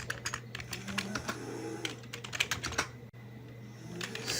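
Rapid keystrokes on a computer keyboard as a command is typed into a Linux terminal on openSUSE, a close, busy run of clicks with a brief pause near the end, over a steady low hum.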